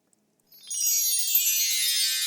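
Water poured into a row of three glasses on a comedy stage, a steady broadband splashing pour that starts abruptly and runs continuously, close and fairly loud.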